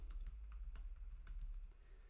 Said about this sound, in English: Some of the most common interactions, typing